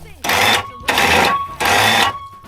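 Vehicle winch pulling a stuck four-wheel machine free on a trail, cable motor whining in three loud bursts separated by short pauses, with a voice speaking over it.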